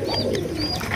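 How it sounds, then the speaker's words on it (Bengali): A racer pigeon coos softly nearby in a short, low burst, with a couple of thin chirps over it before it cuts off. "রেসার আফসান গ্রিজের রেসার কবুতর আপনারা দেখতেই পাচ্ছেন"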